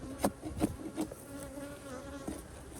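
Honey bees buzz close by in a steady drone, with a few louder passes near the start and some light knocking sounds.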